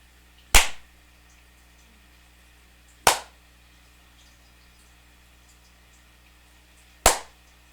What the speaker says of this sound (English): So just notice what you notice from the sound of my hand clapping